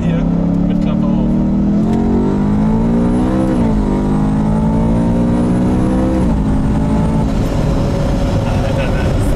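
A 700 hp G-Power tuned BMW E92 M3 Coupé accelerates hard with its exhaust flap open, the engine note rising loud and close through several gear pulls with brief shift dips, heard from inside the car.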